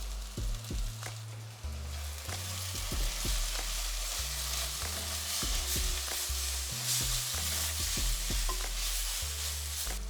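Ground cumin, coriander and garam masala roasting in a pan for a Kerala egg roast, with continuous sizzling and repeated stirring scrapes over a low hum.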